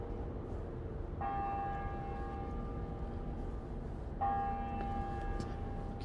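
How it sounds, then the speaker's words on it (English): Church bells toll in the background outdoors on an East Coast road trip, two distinct ringing strikes several seconds apart with long humming decay, faint over steady ambient noise. "You can hear the bells in the background."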